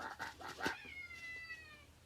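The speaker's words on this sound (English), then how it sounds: "You hear my kitty cat?" A house cat meows a few times in quick succession, faint and somewhat distant, ending in a drawn-out tonal cry.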